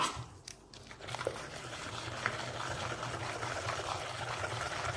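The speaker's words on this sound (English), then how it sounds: "I'm gonna give it a good whisk now" Pancake batter of flour and milk whisked in a bowl, a steady wet swishing and light clinking that runs continuously after a brief quieter start, close and moderate in level.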